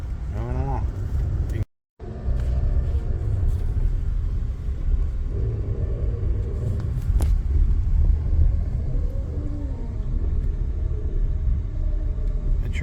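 A heavy, steady low rumble of an Auto Train slowly getting underway, with faint mechanical creaks and distant voices in the background.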